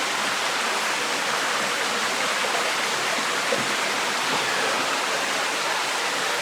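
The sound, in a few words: water cascading down steep cave passage like rapids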